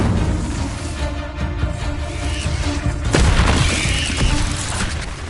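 Incendio fire spell blasts in Hogwarts Legacy, a dense roaring burst of game combat sound with a heavy whooshing surge near the middle that stays loud throughout, layered with steady in-game ambience.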